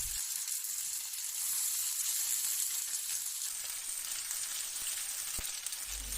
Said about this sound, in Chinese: 倒1大勺油，把土豆丝放进来